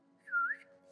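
A single faint voice-imitated whistle rises and falls for about a quarter second over a steady low hum, sounding distant and soft.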